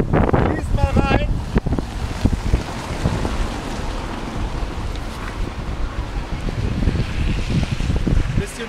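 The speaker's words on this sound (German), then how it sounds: "Bisschen windig und alles schon nass und zugeklebt." Wind buffets the microphone in a steady, loud rumble, with a brief higher-pitched sound near the start.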